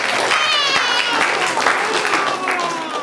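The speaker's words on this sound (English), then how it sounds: "so give them a big round of applause." Steady audience applause at a Durga Puja celebration fills the clip, a dense wash of clapping from a crowd that holds at an even level throughout.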